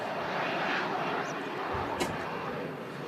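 An EasyJet airliner rolls out along the runway after landing at windy Manchester Airport, heard as a distant, steady jet roar with broad wind-like rush and a faint brief squeak.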